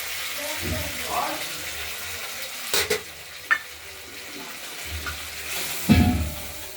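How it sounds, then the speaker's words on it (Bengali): Hand-ground spice paste for a pabda fish curry with potato and tomato fries in a pan, a low sizzle and hiss with a few clattering knocks and scrapes from a spoon, close by, while a voice talks faintly. "মশলাটা আমাদের বাটা হয়ে গেছে, আমরা দিয়ে দিলাম কষানোর জন্য।"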